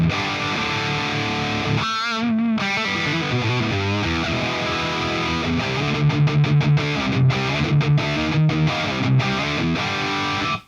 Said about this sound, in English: so this is the welcome preset.